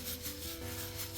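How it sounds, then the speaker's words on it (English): Brass wire brush scrubbing carbon buildup off a piston from a Kohler Magnum M-20QS engine, a brief, close, steady rasping rub with a faint hum underneath. "Just using my brass brush."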